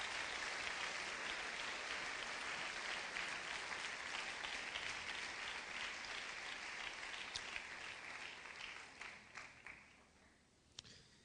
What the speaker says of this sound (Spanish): denle usted una ofrenda de palmas fuerte al Señor